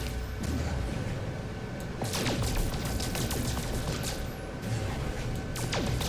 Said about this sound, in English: the ones that detonate when you hit them with the photon cannon